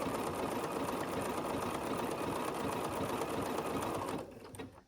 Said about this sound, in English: I'll just do the triple stitch all the way around to hold my binding down